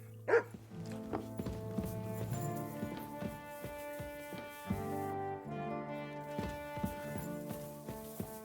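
Mutt, a dog in Kingdom Come: Deliverance II, gives a sharp bark near the start, followed by hoof clops and thuds over a steady musical bed, with no voices.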